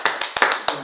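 Four sharp, close hand claps come at a quick uneven rhythm in a small room at home, with a faint voice underneath.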